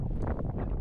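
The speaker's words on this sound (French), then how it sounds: "Il y a beaucoup de vent, vous l'entendez" Strong wind buffets the microphone on a hiking trail on Teide, Tenerife, a steady low roaring rumble throughout.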